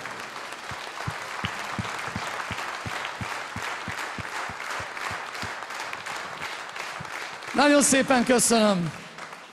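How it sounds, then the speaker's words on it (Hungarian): Concert audience applauding in a large Budapest cinema hall after a live song, steady dense clapping throughout with someone speaking over it and a brief burst of sung or shouted voices near the end. "Tapsoljuk meg a közönséget!"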